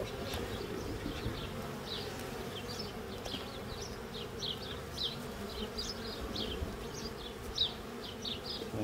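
Honey bees buzz steadily at an open beehive during an inspection, a dense hum with many bees darting close past, continuous and fairly loud with no talking.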